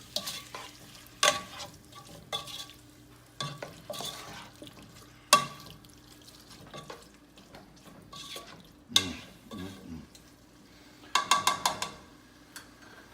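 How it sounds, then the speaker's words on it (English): A spoon stirs canned diced tomatoes into aloo gobi cooking in a pan, giving soft scraping strokes and wet sizzling, with several sharper clinks and a quick rattling burst near the end, against a quiet background. "I used 1 can of diced chopped tomatoes. Stir that in good."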